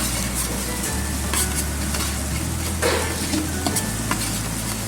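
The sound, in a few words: stirring green chilies into frying masala with garlic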